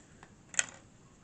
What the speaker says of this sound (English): that clicking noise you just heard was my elbow